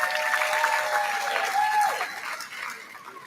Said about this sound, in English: Please give your MC a round of applause.